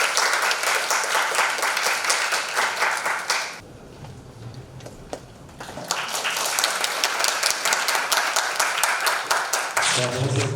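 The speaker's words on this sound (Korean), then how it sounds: "그럼 박수로 모시겠습니다." An audience applauds at a Korean concert as the conductor of a student wind quintet ensemble is welcomed. The clapping is dense and sustained and briefly drops away midway before resuming, with some voices mixed in.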